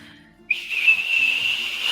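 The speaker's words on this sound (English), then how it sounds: "the like high pitched shrieking whistling" A sudden high-pitched shrieking whistle starts after a brief quiet moment and holds steady and piercing to the end.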